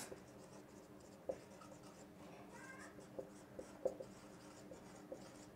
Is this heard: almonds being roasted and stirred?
no